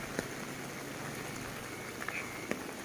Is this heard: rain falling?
yes